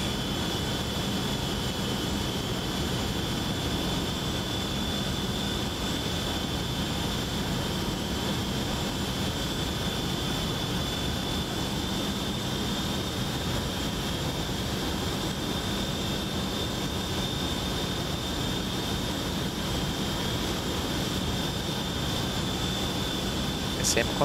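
The engine of an X-Craft ERJ-135 regional jet hums in a flight simulator, a steady faint whine with a high tonal edge running unbroken through the cockpit while someone talks over it.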